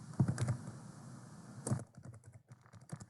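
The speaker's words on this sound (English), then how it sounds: "she might be typing in her response" Typing on a computer keyboard, with bursts of quick, close key clicks over a steady background hiss, a pause in between, then scattered softer taps toward the end.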